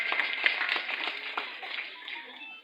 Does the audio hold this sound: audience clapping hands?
yes